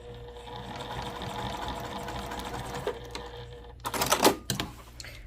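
Sewing machine basting a zipper gusset on a crossbody bag, a steady close mechanical whir for several seconds followed by louder clattering and fabric handling.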